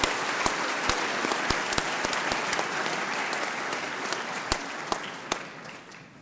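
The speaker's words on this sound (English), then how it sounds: "Let's give this group a round of applause" Audience at a scholarship reception giving a group a round of applause, a sustained, even wash of many hands clapping with a few crisp nearby claps standing out, slowly easing in level.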